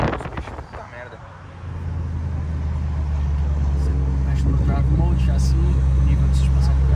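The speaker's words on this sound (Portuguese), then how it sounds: "olha o barulho do escapamento desse carro" A deep, loud Porsche 911 Carrera (992) exhaust rumble kicks in after a brief lull and holds steady and close, with a voice talking over it.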